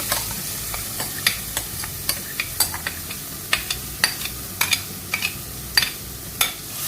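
Mango pieces for a traditional Kerala mango pickle fry in hot oil, a continuous sizzle with sharp clinks and scrapes of a spoon stirring at an uneven, steady pace.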